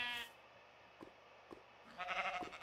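A Minecraft sheep bleats in an acacia biome village, one short bleat at the start and a longer, louder one near the end, with faint soft footstep-like taps between them.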